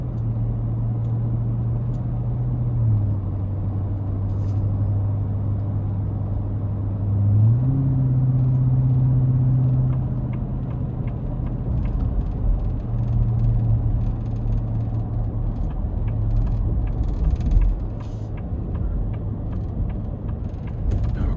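Interior road noise rises from a 2026 Ford F-150 Raptor R being driven in sport mode, a steady deep rumble with engine drone shifting pitch as it changes gears, carrying on without talk.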